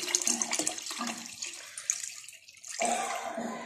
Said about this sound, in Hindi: अब हम इसमें ऐड करेंगे दूध, दूध डालेंगे